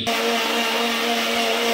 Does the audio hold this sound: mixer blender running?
yes